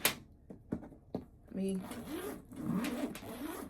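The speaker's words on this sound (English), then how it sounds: "you're going to notice when you are zipping the bags, all right, unzipping" A zipper on a Coach handbag is drawn several times, sharp short rasps near the start, then longer sustained zipping runs close up, with talking mixed in.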